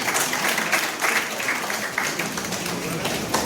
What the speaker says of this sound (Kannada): ದಯವಿಟ್ಟು ಚಪ್ಪಾಳೆಯೊಂದಿಗೆ ಗೌರವವನ್ನು ಸಮರ್ಪಿಸೋಣ